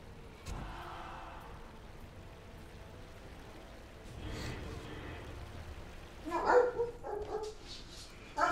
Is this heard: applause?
no